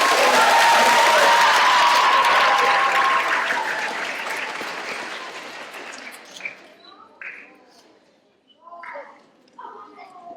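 Loud applause from a school assembly audience cheering for the second grade, strong at first and then fading after a few seconds into scattered claps and murmuring voices.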